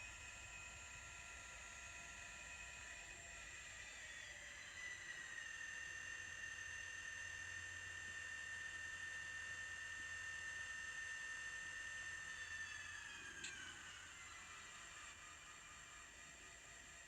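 DCC sound decoder in an N scale Atlas RS11 Alco model locomotive, playing a faint steady diesel drone with a whining tonal hum that slowly rises and holds, then drops away near the end.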